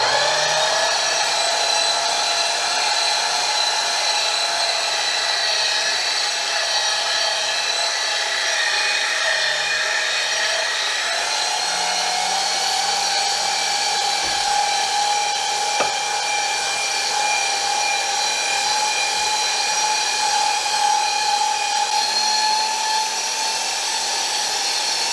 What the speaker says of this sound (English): I'm going to use my grinder